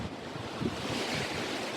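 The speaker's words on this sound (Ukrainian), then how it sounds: "Дуже такий вітер піднявся." Strong wind buffets the microphone in a continuous roar with gusty swells at a summer-house garden, heard alone without any voices.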